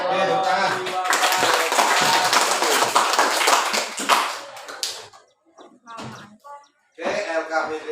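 Clapping from a class of students in a teaching-practice session, dense and steady for about five seconds, then fading into scattered sounds and a voice before a brief burst returns at the end.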